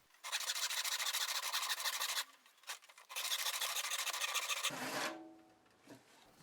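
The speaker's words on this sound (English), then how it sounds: "It's quicker and easier to cut off the excess wood from the narrow part of the handle blank using the ripsaw." Close, steady rasping strokes of a ripsaw cutting excess wood from the narrow part of a mallet handle blank, with a brief pause midway before sawing resumes and then stops.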